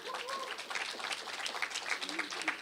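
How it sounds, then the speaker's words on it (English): Audience applause at an official digital device hand-over ceremony for tablets distributed to students, steady clapping from a crowd lasting the whole stretch, with voices mixed in. "Round of applause for this."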